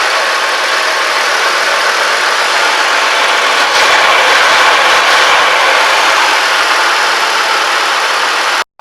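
A Ford Taurus engine idles steadily after being fitted with new spark plugs and wires, a continuous close hum with no speech, cutting off abruptly at the end.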